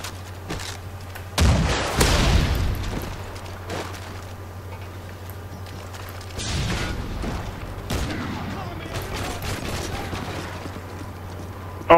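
Automatic gunfire and booming shots from a Modern Warfare 3 2v2 match, with a loud burst near the start, a second flurry midway, and a steady low game hum throughout.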